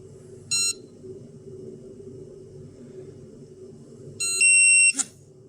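An Atom-scan dosimeter, running without its detector unit, sounds an error: a short electronic beep, then after a pause a longer double-pitched beep, over a low steady hum.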